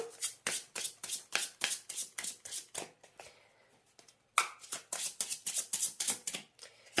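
Tarot cards riffle and snap in quick rhythmic bursts of crisp shuffling, close and distinct, with a brief pause midway before the fast shuffling resumes.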